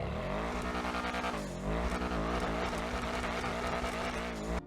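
The Benefactor Schlagen GT sports car in GTA Online revs hard, its engine note rising and dropping through quick gear changes while tires squeal, loud and close throughout.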